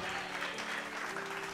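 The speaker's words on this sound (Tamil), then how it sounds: "கைத்தட்டு கொடுத்து" A church congregation gives soft, distant applause, a continuous faint patter of clapping with a low steady hum beneath.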